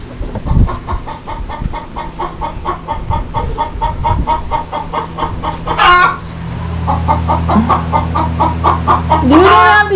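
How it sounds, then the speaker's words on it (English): Chickens cluck steadily and densely inside a farm chicken coop, with a rooster crowing loudly twice over the flock and bits of talk nearby. "Now we'll see if Henry will let me in the chicken coop"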